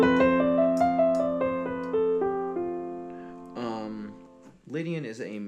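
A short melodic phrase in the Lydian mode plays as sustained pitched tones in a descending line, followed by a couple of brighter, shifting notes near the end.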